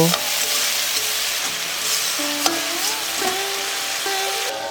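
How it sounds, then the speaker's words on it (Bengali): Spices cooking down with a little hot water over a medium flame for a vegetarian paneer dish, with a steady loud sizzle and the scrape of a spoon stirring through it, with no speech. "সব মশলাগুলোকে জলের সঙ্গে ভালো মতো মিশিয়ে নিয়ে আরও কিছুক্ষণ কষিয়ে নেব"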